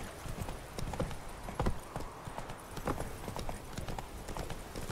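Horse hooves clip-clop at a galloping pace in The Witcher 3, rapid rhythmic thuds close by and fairly loud, with a brief whinny-like touch amid the steady hoofbeats.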